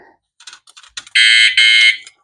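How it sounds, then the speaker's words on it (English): A loud electronic alarm going off beside a recumbent tadpole trike under a waterproof fabric cover on a PVC frame, two long steady beeps after a few shorter clicks and taps. "gotta turn off my alarm."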